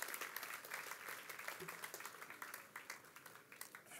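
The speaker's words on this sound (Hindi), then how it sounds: "आइए पुरजोर तालियों की गड़गड़ाहट में हम इस्तकबाल करें मोहतरम खुशबीर सिंह शाह साहब का।" An audience at a mushaira, an Urdu poetry gathering, applauds to welcome a poet, a soft, continuous crackle of many hands clapping at a distance with some voices mixed in.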